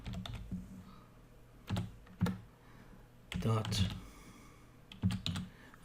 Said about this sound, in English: I'll start typing